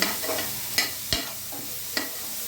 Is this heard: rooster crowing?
no